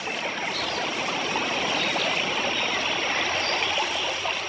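Steady broadband rush of water flowing over rocks at the top of a waterfall in the Amazon rainforest, continuous and fairly loud with no pauses or voices.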